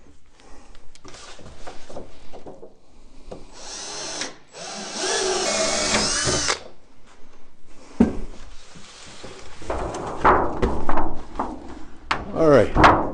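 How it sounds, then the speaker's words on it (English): A power drill whirs loudly through wood while building a Layens beehive, in a sustained burst, with clattering handling noises and brief shorter drill runs before and after. "I'll go ahead and drill the other 4 holes on this side."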